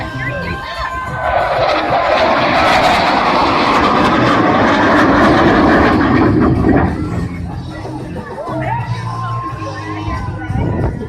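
An aircraft powered by Rolls-Royce Merlin engines roars past at an airshow, a loud sustained engine drone swelling and fading over a crowd, with announcer speech and cheering mixed in.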